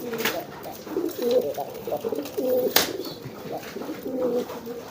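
Racing pigeons coo repeatedly in soft, rhythmic, throaty bursts nearby, with a sharp click-like noise partway through.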